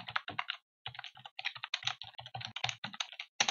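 Code being entered on a computer keyboard, with rapid, close-up key clatter in bursts and one short pause near the start, no voice over it.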